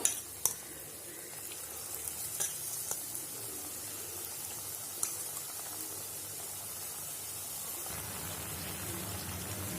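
Pakkavada batter frying in hot oil, a soft steady sizzle with a few clinks of utensils, faint and continuous throughout.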